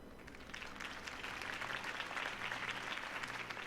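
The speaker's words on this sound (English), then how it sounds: "could have heard that applause" A large crowd applauds a political campaign speech in a video game, dense clapping holding at an even level from start to finish with a faint low hum underneath.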